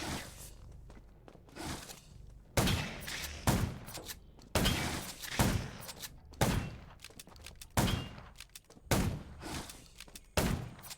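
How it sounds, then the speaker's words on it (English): Sharp gunshots from the zombie survival shooter game Undawn go off in a rapid series of bursts, loud and close, with short gaps between volleys. "Gunshots will attract more."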